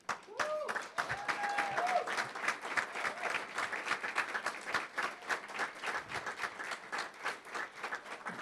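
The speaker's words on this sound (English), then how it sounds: "You deserve some applause." A crowd at a realtors' installation and awards ceremony applauds the association staff. The clapping is moderately loud and sustained, with a brief tonal sound near the start.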